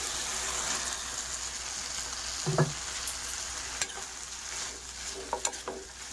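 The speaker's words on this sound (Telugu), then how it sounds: "చూసారా, ఆయిల్ వచ్చేసింది కదా, ఇప్పుడు మనం రైస్ వేసేద్దాం." Rice tossed into hot oil for pulihora, frying and stirring in a pan, with a steady quiet sizzle and a few soft scraping clinks of a spatula against the pan, no talking.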